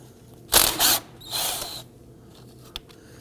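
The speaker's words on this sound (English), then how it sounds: "12mm socket, we'll remove this bolt." A ratchet fitted with a 12mm socket works a bolt loose on the front suspension of a 2005-2009 Subaru Legacy, giving a few short clicking bursts followed by a small metallic tap.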